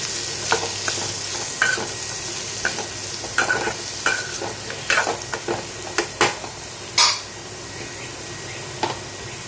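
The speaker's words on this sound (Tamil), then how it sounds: "நல்லா வதக்கி விடுங்க." Chopped pumpkin with dried red chillies sautés in a pan, a steady sizzle under repeated close scrapes and knocks of a spoon stirring at an irregular pace.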